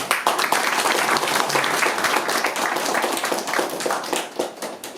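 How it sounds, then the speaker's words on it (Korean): A crowd at an outdoor campaign rally in Pocheon applauds in welcome, dense steady clapping filling all five seconds and fading slightly at the end. "박수로 환영해 주십시오."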